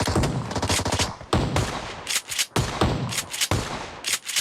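Rapid gunfire from the PUBG Mobile video game comes in repeated loud bursts of automatic shots, broken by short gaps and close to the listener.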